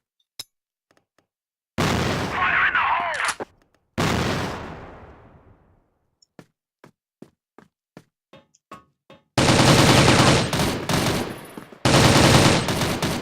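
Gunfire in the video game CrossFire: loud sustained bursts of automatic fire, a string of sharp single shots in quick succession, then long dense volleys, all without talk.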